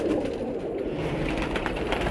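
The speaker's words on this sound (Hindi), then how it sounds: "कबूतर आ गए बाहर" Desi pigeons coo outdoors in soft, close calls over a low background murmur.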